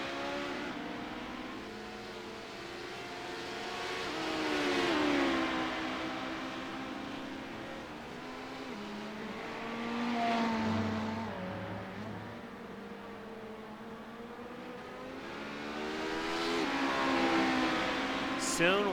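Race car engines at Daytona, including the number 14 machine, barreling into turn one, with rising and falling engine whines sweeping past at a distance beneath continuous commentary.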